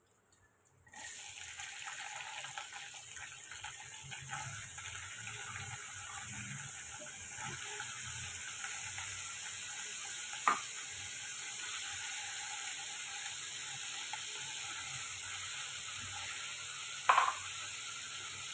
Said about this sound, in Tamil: உருளைக்கிழங்குக்கு தேவையான உப்பு சேர்த்து நம்ம வதக்கி விட்டுக்கலாம்